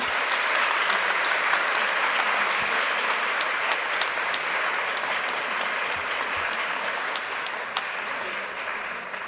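A summit audience applauds the speakers with steady, dense clapping that holds at an even level for the whole stretch, with no talk over it.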